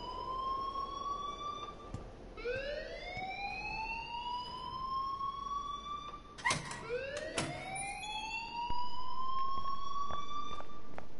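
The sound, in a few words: alarm ringing in Life Is Strange video game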